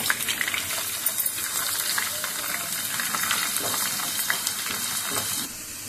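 Chopped onions and curry leaves fry in hot oil with a dense, continuous close sizzle and crackle, punctuated by light stirring scrapes, with no talking.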